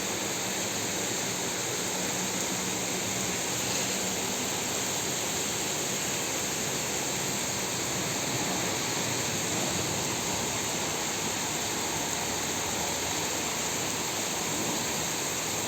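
Heavy monsoon rain pouring down in Kolhapur amid lightning: a constant broadband hiss and rush of falling water, steady and close, lasting the whole stretch without speech.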